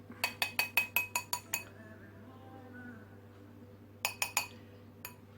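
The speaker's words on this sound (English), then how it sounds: "Give them a good little beat." Free range eggs whisked against a bowl, a fast run of eight sharp clinks, a pause, then another quick burst of three and a lone final tap, close and bright with no talking.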